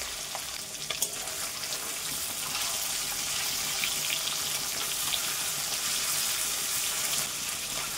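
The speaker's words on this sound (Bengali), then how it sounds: "তেলটা গরম হয়ে গেছে, এখন মাছগুলো দিয়ে দিই।" Small mourala fish sizzle and spit in hot oil in a pan, a steady loud crackle with faint stirring and a few sharp pops. No one talks.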